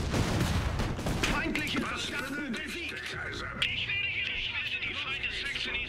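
Heavy artillery booms and rapid gunfire in the strategy game Iron Harvest crackle in a dense, continuous barrage, with a voice talking over the battle noise.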